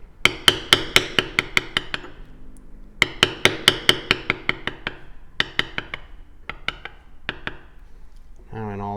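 A metal stamping tool is struck in quick bursts of sharp, close taps to shade leather flower petals on a card holder, the taps falling in rapid groups with short pauses between them.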